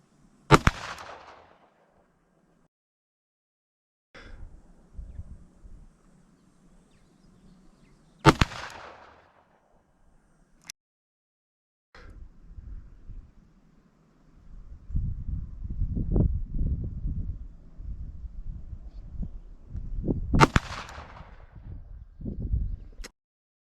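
Ruger GP100 revolver fired six times during an ammunition test, sharp loud cracks spaced irregularly several seconds apart, with rumbling handling noise and faint background sounds between shots.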